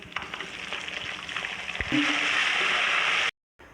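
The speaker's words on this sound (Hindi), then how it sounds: "और लहसुन अदरक का पेस्ट डालूँगी, ये कुटा हुआ है। और साथ में टमाटर डाल दूँगी।" Crushed garlic-ginger paste and tomatoes hit hot oil for chana biryani. A light sizzle with stirring clatter jumps into a loud, dense frying hiss as the ingredients go in, then cuts off abruptly.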